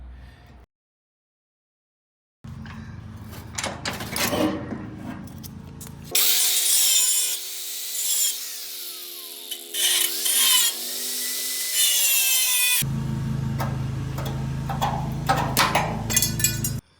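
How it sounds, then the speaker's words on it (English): A drill bores out spot welds on the sheet-metal bed panel of a 1973-79 Ford F-100 during a long-to-short bed conversion, with loud metallic scraping and whining bursts that start and stop repeatedly, close up. "I could drill out these 2 spot welds right here"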